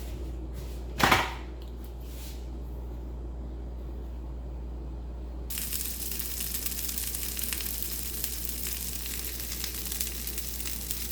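Frozen beef and bean patties frying in olive oil on medium heat, a steady broadband sizzle that starts softly after a single sharp pop and then swells louder and denser partway through, continuing alone without talk.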